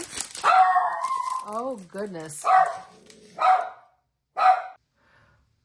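A dog barks several times in loud, sharp bursts with short gaps, close by, after a brief exclamation from a person.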